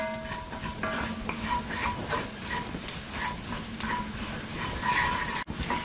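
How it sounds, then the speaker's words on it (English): Taco seasonings of paprika, granulated garlic and black pepper are stirred into ground turkey cooking in a pot. A continuous close sizzle runs under repeated scraping strokes of the spoon. "take about a minute to really stir these seasonings into the meat"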